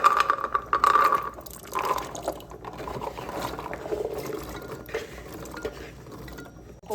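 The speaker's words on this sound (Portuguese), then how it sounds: "Vou colocar água até cobrir" Water pouring into a cooking pot to cover eggplant pieces in a home kitchen, a continuous splashing fill that is louder at the start and then settles into a softer trickle.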